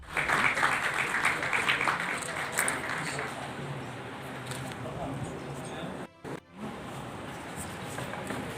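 Applause rises from the audience at a Delhi felicitation ceremony honouring students, teachers and people with disabilities: dense, steady clapping that is loudest at the start, then thins into a softer mixed crowd wash with a brief dropout near the end.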